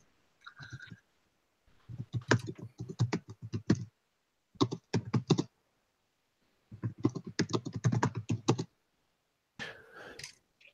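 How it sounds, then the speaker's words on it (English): Bursts of rapid typing on a computer keyboard during a tabletop role-playing game session, several separate runs of dense clicking with pauses between, fairly close and alone without talk. "Okay, I'm typing something."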